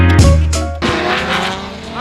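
Fast race cars heading out on track for a session, engines roaring loudly as they pass close by in quick succession with brief tire noise, over a dense, continuous mechanical din.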